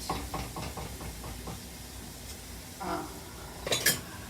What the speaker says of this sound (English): I'm going to give these another stir around the pot